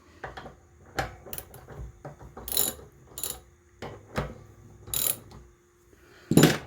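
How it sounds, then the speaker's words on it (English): A ratchet wrench is worked off the barrel of a P14 Enfield rifle, giving short bursts of crisp metallic clicking separated by brief pauses, close by and with no talk. "Let's take the wrench off."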